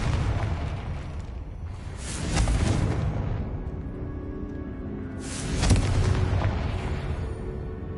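Two booming fireball blasts from the Confringo spell in the video game Hogwarts Legacy, each a sharp broadband burst rolling into a low rumble, spaced about three seconds apart over a steady bed of game noise.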